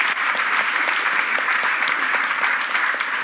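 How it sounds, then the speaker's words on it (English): Audience applause for a panel of speakers at a competition law, economics and policy conference, steady and full throughout with no talk over it. "let's give a round of applause to all our panelists"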